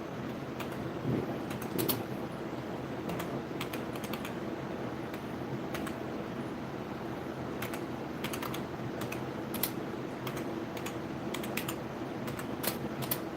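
Computer keyboard keys clatter in scattered bursts of light, crisp clicks over a steady hum of fan or wind noise, during a cardboard PC case build, with no talk.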